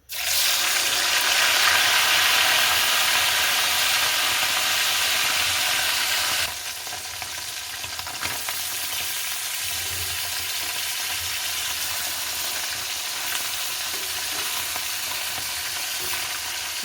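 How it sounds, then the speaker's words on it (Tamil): Boiled chicken pieces deep-frying in hot oil make a loud, dense, continuous crackling sizzle close by, easing slightly in level after a few seconds but carrying on unbroken. "இனி நாங்கள் இந்த அவிச்சு வச்சுருக்கிற சிக்கன் பீஸை இதில் போட்டு பொரிச்செடுக்க போகிறோம்"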